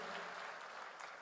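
Church congregation clapping during worship, a steady wash of many hands across a short stretch, fairly quiet and even, with a faint voice under it.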